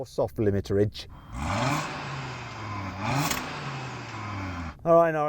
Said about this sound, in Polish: Okej, no to czas na RS3 i jeszcze więcej soft limitera.